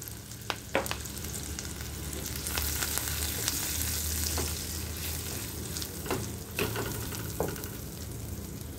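Long-cut green chillies and achaari masala go into hot tadka oil with garlic for an achaari dal. A dense, loud sizzle crackles throughout, with sharp spatula taps and scrapes scattered across it.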